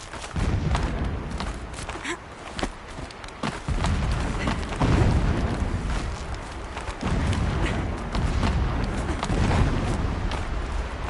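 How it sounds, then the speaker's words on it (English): Distant explosions rumble as dull, repeated low booms under a dense, noisy ambient bed in the video game Horizon Zero Dawn. "Explosions in the distance."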